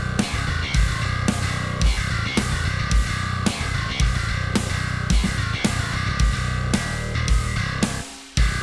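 A gritty, distorted djent bass VST line plays alongside a steady drum beat, with regular kick and snare hits, loud and continuous before cutting off near the end.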